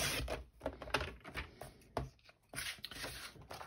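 Sheet of A4 craft card being cut down to size, giving a run of quick, close, irregular crisp cutting strokes with short pauses between them, quiet and alone with no talk.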